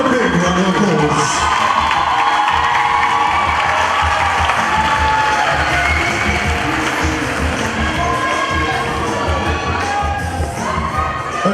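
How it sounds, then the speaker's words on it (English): Loud, continuous audience applause mixed with cheers and shouts for regional queens at the Empress South Africa 2018 pageant, a dense crowd roar lasting throughout. "Let's give them a big round of applause."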